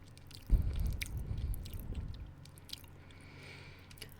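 Pop Rocks candy is eaten close to the mic in an ASMR session, with a sudden wet bite and crunch followed by a couple of seconds of squishy chewing and faint crackles fading away.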